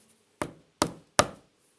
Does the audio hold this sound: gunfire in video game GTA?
no